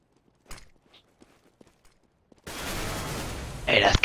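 Gunfire in Counter-Strike: Global Offensive starts with a few faint, scattered clicks and taps. A loud, dense burst of shooting then takes over and builds to sharp, bright cracks near the end.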